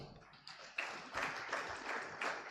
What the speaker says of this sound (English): Can we give Noah a big clap?